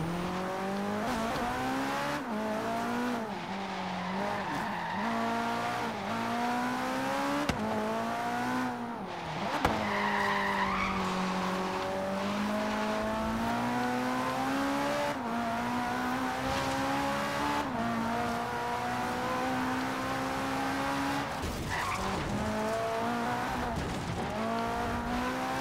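A racing video game car drifts through a corner, its engine droning with steady revs and long sweeping pitch shifts while the tires squeal and skid continuously across the whole stretch.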